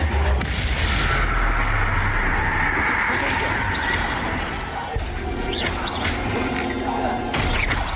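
Bombarda and Confringo spell explosions in Hogwarts Legacy combat: a dense, loud barrage of booms and crashes rumbling continuously, with voices underneath.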